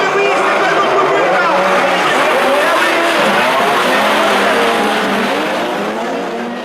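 Ice-racing cars of the Trophée Andros 2012 championship roar off together at the start of a six-lap race, a dense, loud wall of engine noise with tire slither that holds steady and only eases slightly near the end.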